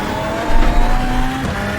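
A VW Beetle Lite rallycross car in the iRacing video game at Phoenix Rallycross, its engine droning loud and close in a continuous tone with brief tyre scrubbing over a short stretch.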